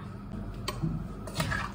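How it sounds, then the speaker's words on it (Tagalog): Water from cooking squid drains and trickles in a pan, a brief close liquid pouring and dripping with a couple of small splashes. "Patutuyuin ko muna siya sa tubig kasi nagtutubig yung ating hipon, yung ating pusit"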